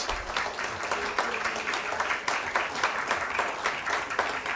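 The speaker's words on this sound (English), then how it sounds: "करतल ध्वनि के साथ तालियां चलती रहनी चाहिए फ्रेंड्स." Audience applause rings out at a startup innovation confluence, a dense, steady wash of clapping from a sizeable crowd that carries on without pause and without talk for several seconds.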